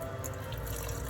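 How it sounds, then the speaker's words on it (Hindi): A full glass of water is poured into a pot of simmering chana dal for dal makhani, giving a steady, dense watery rush that lasts the whole second with no voices. "ये एक पूरा गिलास इसका पानी का डाल दिया"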